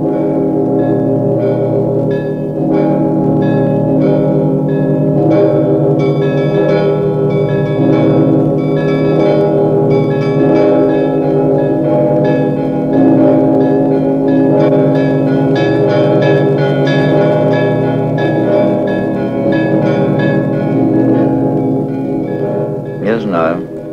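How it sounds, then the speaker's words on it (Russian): Church bells peal festively in a loud, continuous, dense wash of overlapping tones, with struck notes ringing out across the whole stretch and no break. "А колокольный звон – это страшно торжественно и красиво, и сразу создает ощущение праздника."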